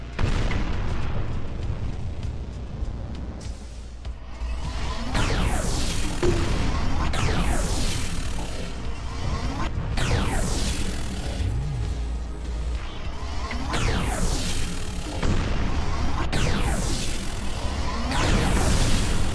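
Repeated heavy blasts from grenades and gunfire in the shooter game Vortica, several loud booming bursts with crackling tails, spread across the stretch amid dense battle noise.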